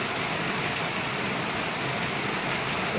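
Heavy rain pours down steadily in Bhadrak district, a dense, even roar of falling water that stays loud throughout, with no voices.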